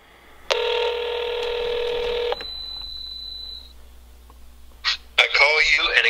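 A telephone emits dialing tones: a loud steady multi-tone burst, then a long thin single tone, followed by brief ringing blips as a voice begins speaking at the end.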